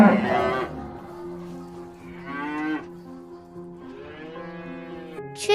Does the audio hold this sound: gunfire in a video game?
no